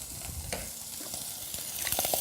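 Foie gras fries in a saucepan with a steady, close sizzle, and a spatula scrapes and stirs now and then.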